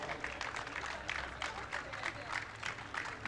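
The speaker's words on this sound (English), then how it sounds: "A big applause for them." Scattered hand clapping from a small crowd at a 4 Hours of Portimão endurance race ceremony, steady for a few seconds with voices mixed in underneath.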